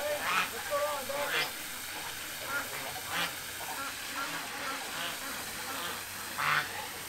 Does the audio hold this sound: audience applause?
no